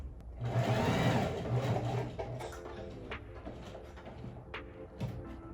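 A sewing machine stitches a zigzag mend over a hole in fabric, loud and close for the first couple of seconds, then running more quietly with a light mechanical whir and a few clicks.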